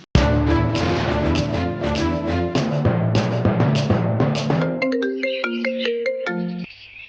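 A phone ringtone plays a bright repeating melody for several seconds, loud and close, then cuts off.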